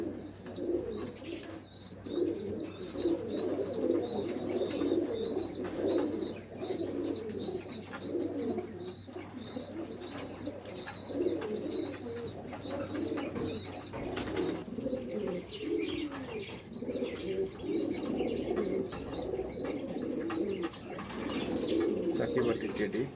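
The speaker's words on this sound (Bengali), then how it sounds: "যেমন উড়ার তেমন মেমোরি, সুপার কোয়ালিটির কবুতর" Pigeons coo steadily and nearby in repeated low rolling calls, with higher chirps and faint rustling mixed in throughout.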